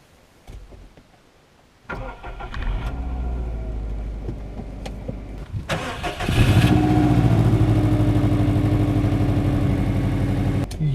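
A 2005 Subaru Impreza WRX Hawkeye cranks briefly, then fires up and settles into a steady, close idle; after a few seconds the engine note rises and holds at a louder, fuller rumble.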